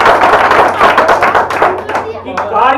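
Audience clapping at a comic poetry gathering, a short, loud patter of hands that blends with a speaking voice throughout.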